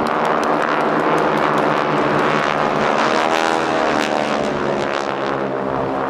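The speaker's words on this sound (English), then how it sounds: "Continue to watch the aircraft as they rejoin flying straight ahead and then reverse back to give you one more exciting opportunity to place these magnificent World War II icons" Several GEICO Skytypers propeller planes drone loudly and steadily overhead at an airshow, a dense buzzing roar that swells slightly as they pass.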